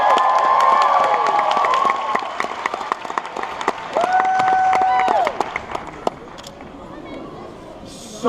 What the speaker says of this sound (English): a big round of applause for Minnie Mouse.